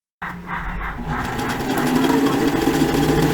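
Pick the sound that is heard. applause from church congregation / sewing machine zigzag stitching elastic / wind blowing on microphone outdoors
sewing machine zigzag stitching elastic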